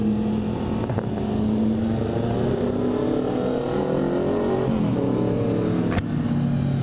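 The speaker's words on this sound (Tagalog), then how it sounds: "Ingay na exhaust ni tropa." A loud motorcycle exhaust on a group ride, heard during riding with a Triumph Street Triple R in the group, a steady close engine drone whose pitch climbs and dips as the throttle rises and eases, without speech.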